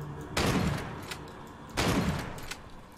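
Two heavy booming gunshots in the survival horror video game Daymare 1998, each with a sharp broadband onset and a long rumbling decay, spaced about a second and a half apart and heard alone with no talk.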